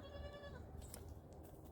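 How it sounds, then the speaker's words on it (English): Goats bleat faintly in the background of a rural property. One drawn-out bleat is followed by scattered farmyard noise, all quiet and distant. "We do have goats. You guys hear them in the background."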